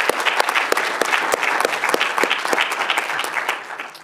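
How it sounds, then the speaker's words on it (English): A crowd at a landscape architecture charrette presentation applauds the team leaders, a steady burst of dense clapping from many hands lasting a few seconds and fading slightly at the end. "So let's give a round of applause for the team leaders."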